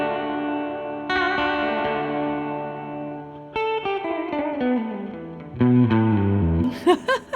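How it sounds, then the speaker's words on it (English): Guitar through a Submarine Pickups SubSix hexaphonic pickup with reverb applied only to the high strings, clean sustained chords and notes ringing with long echoing tails, followed by descending phrases and a few sharp plucked accents. "the extra reverb from before was really cool just on the high strings"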